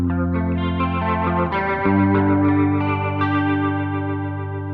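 Electric guitar played through the black panel amp model of a Line 6 POD 2.0, with a little grit and boosted mids, sustained chords ringing loud and close with chorus-like shimmer, no talking.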